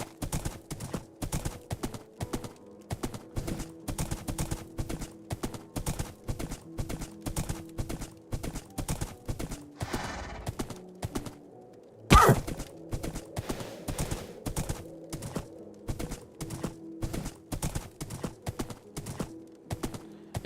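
Rhythmic clip-clop of a horse's hooves in Minecraft, a steady even beat of crisp hoof steps running throughout, briefly paused around a single sharp louder knock.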